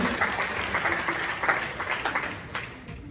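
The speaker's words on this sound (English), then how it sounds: "How about a big round of applause for our dancers?" A school auditorium audience at a high school stage hypnosis show claps for the dancers, a sustained wash of applause that slowly thins toward the end.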